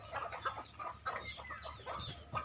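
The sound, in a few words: hens clucking and cocks crowing in a village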